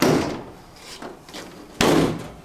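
A car's carbon fiber hood latch releases up close: a couple of softer creaks and knocks, then a sharp, loud metallic pop near the end.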